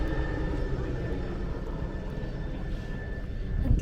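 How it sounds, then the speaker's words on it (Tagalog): A helicopter flies overhead with a steady, low engine drone that holds level throughout and swells slightly near the end, moderately loud outdoors. "Uy, helicopter!"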